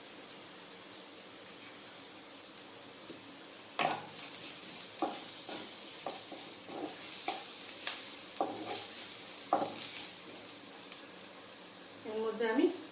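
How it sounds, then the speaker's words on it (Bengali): Ginger, garlic and onion fry in a pan as gram flour is added and stirred in. Steady sizzling plays under scattered scraping stir strokes and utensil knocks, close to the listener. "আদা রসুনটা পেঁয়াজের সাথে ভালো মতো ফ্রাই হয়ে গেছে"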